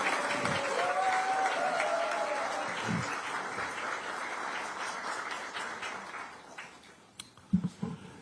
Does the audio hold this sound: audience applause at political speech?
yes